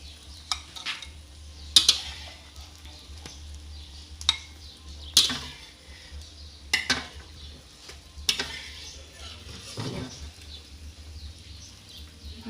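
A Thai-style omelette frying in plenty of oil, a soft crackling sizzle with intermittent scraping and clinking of a utensil against the pan, fairly quiet and close.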